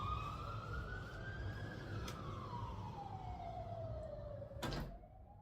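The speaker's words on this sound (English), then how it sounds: "You can still hear that siren." A faint siren wails in the distance outside a Benidorm hotel, rising and slowly falling in pitch, with a muffled thud of a door near the end.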